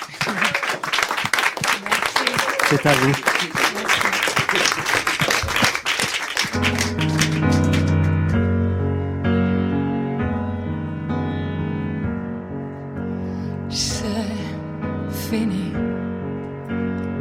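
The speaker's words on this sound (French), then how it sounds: "Je vous demande de l'applaudir." A studio audience at a live French radio broadcast applauds a singer, a loud dense burst of clapping for about six seconds that gives way to a band starting to play.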